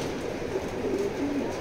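Racing pigeons coo in a loft, a few low, faint burbling notes over a steady rumbling background, with no talk.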